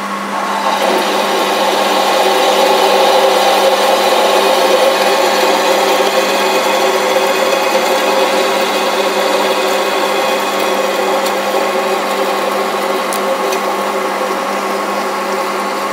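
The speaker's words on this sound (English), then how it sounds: "I'm going to be parting it off at 360 rpm and a feed of just over 2/1000ths of an inch per rev." A CNC lathe parts off a bar with a grooving/parting tool at 360 rpm, producing a steady, loud whirring cut with a sustained tonal hum and no speech.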